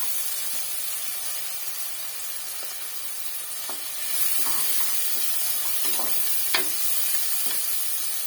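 Vegetables sautéing in a pan for kodo millet khichdi, a steady sizzle and hiss with scattered stirring scrapes and clicks, louder in the second half, with no talking.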